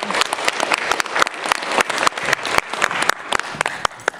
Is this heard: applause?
yes